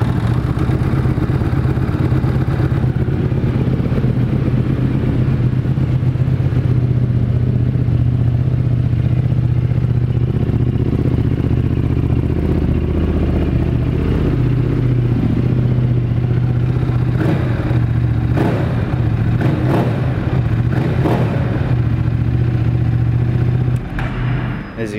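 A white 2008 Buell 1125R sport motorcycle with about 20,000 miles idles loudly up close through its aggressive exhaust, a steady deep rumble with a few throttle blips near the end.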